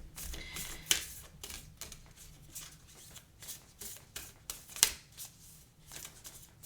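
Oracle and tarot cards are shuffled by hand in quick, repeated riffling bursts with a couple of sharper snaps, close and fairly quiet, with no talking.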